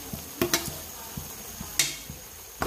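Mutton with grated coconut stirred in oil in a pan, a faint sizzle under scattered light spatula taps and scrapes, quiet and close.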